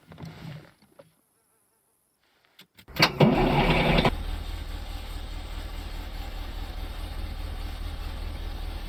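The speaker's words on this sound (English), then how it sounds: "Wait till you hear the engine sound." In the video game DayZ, a school bus engine cranks over after a brief pause, then settles into a steady, buzzing idle that drones on continuously.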